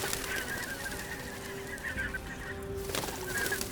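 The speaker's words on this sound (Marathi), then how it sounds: "सारे हंस उडू लागले, पण प्रधान सुमुख आपल्या राजाला सोडून जाईना." A flock of geese or swans honks as it takes flight. The calls are faint and recur over a steady background hiss.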